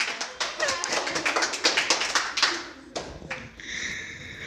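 Loud applause from a class of students for a contestant at a school quiz competition, sharp overlapping claps in a steady burst for about three seconds before thinning out under a tonal squeal.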